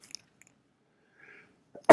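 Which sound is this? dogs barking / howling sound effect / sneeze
sneeze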